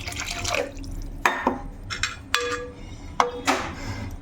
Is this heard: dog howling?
no